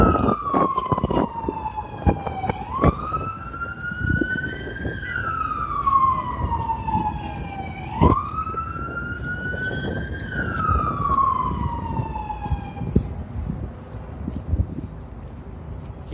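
Police car sirens wail at a New York anti-racism street protest, rising and falling in long slow sweeps over steady traffic rumble, moderately loud and continuous with no talk.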